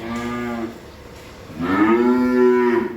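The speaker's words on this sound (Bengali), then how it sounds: "এই হলো আজকের এক নাম্বার একটা জার্সি বকনা বাছুর চার মাস বয়সের" A four-month-old Jersey heifer calf moos twice up close, a short low call followed by a longer, louder drawn-out moo.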